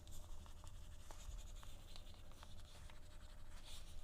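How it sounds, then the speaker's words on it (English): Faint, sparse clicks and light scratchy rubbing from burnishing the edges of a leather bifold wallet, close and quiet with no talking. "You know you got a good burnish when you hear those little clicky sounds like"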